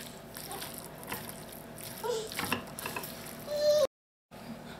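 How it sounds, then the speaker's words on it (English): Pasta or brown rice being stirred together with shredded cheese for stuffed peppers, soft scraping and mixing sounds at moderate level with a brief clatter near the end, followed by a short silence. "Now give everything a mix."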